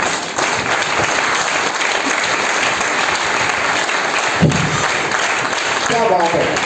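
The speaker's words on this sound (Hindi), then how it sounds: "तो एक बार इनके लिए ताली बजा सकते हैं क्या?" A hall audience at a mentorship seminar gives sustained, loud applause with steady dense clapping from start to finish, and a brief voice cuts in near the end.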